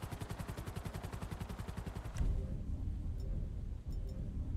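Rapid automatic gunfire in the video game GTA V rattles as a fast, steady burst of shots for about two seconds, then gives way to a dense, rumbling wash of game noise with faint ticks.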